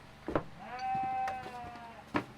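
A sheep on a Kansas family farm gives one long, wavering bleat, close and clear, framed by a couple of short thumps and faint background noise.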